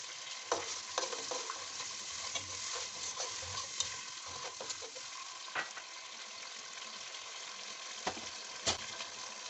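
Whisked yogurt sizzles as it is stirred into frying chicken pulao with tomatoes and green chillies, a steady crackling fry punctuated by sharp spoon scrapes and clinks against the pot.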